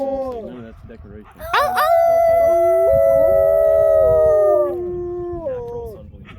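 Wolves howl together in a loud, near chorus of long sustained rising and falling tones, several voices layered over one another for a few seconds before tapering into softer wavering cries.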